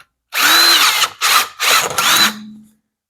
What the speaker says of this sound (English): Get that little burr off there on the back side.